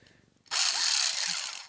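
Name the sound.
Ingersoll Rand Redi-Ratchet air ratchet mechanism clicking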